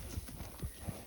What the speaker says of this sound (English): all cows are here